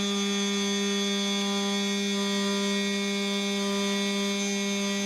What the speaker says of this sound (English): Also watch the top spindle fan kicking in.